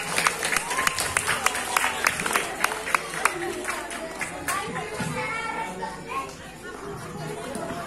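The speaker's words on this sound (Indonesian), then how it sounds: "Tepuk tangan untuk regu A." Audience at a children's team competition claps for a team, a lively mix of scattered claps, crowd chatter and children's voices that stays fairly loud throughout, with speech mixed in.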